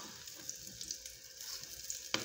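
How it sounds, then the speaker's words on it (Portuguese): Meatballs of ground beef coated in egg and breadcrumbs frying in hot oil, a steady faint sizzle with small crackles and one sharp pop near the end. "Aqui a fritura."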